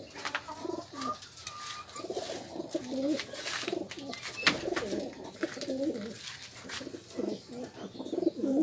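A racing pigeon coos repeatedly at close range, soft throaty phrases rolling one after another with short pauses and no talking.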